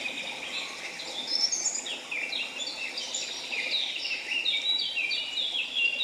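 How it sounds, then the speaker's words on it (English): Birds sing in a jungle setting, with several bright chirping and warbling calls layered over a soft background hiss of insects, continuing steadily without pause. "all the beautiful bird life."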